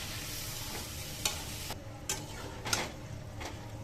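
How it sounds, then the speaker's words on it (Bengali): Potatoes and chicken skin sautéed together in a pan, a steady oily sizzle with a few sharp clicks and scrapes of a spatula against the pan, no one speaking. "দুটা একসাথে কষামো আলু আর চামড়া"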